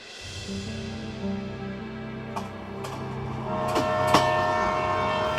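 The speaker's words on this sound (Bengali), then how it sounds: "ট্রেন ছাড়ল দুদিকে শহরের চিহ্ন দ্রুত মুছে যেতে লাগল" A departing train used as a sound effect in a Bengali suspense audio story, heard as a steady mechanical rumble with a sustained horn-like tone and a few sharp metallic clanks toward the end.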